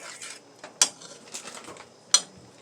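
Heavy cream stirred in a pot, with a spoon scraping and clinking against the metal: soft rubbing sounds broken by two sharp close clinks, fairly quiet overall.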